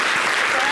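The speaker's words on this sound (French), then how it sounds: "Ça s'applaudit." Studio audience applauding at a televised Ivorian awards-style show, a dense steady burst of clapping heard briefly and filling the moment without a break.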